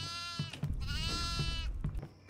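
A goat in the horror video game Devour gives a long, wavering bleat, close and loud, followed by a second shorter cry over low rumbling background noise.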